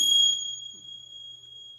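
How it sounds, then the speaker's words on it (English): A small bell gives one bright ding at the start, then its clear high tone rings on and slowly fades across the rest of the moment, heard alone without talk. "I got bells."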